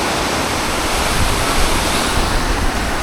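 River water rushes loud and unbroken at the Munich city surf wave, a dense, close roar of churning flow that fills the scene with no voices.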